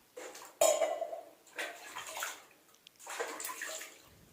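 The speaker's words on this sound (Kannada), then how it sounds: "ಒಂದು ದೊಡ್ಡ ಸ್ಟೀಲ್ ಪಾತ್ರೆಯಲ್ಲಿ ನೀರು ಹಾಕ್ಕೊತೀನಿ ನೀರು ಹಾಕ್ಕೊಂಡು ಪ್ರತಿಯೊಂದು ನೀಟಾಗಿ ತೊಳ್ಕೊತೀನಿ" Water sloshes and splashes as idols are washed in a big steel vessel during a home Maha Shivaratri festival. Short separate bursts of water handling come with light metallic clinks, close and fairly quiet, with no talking.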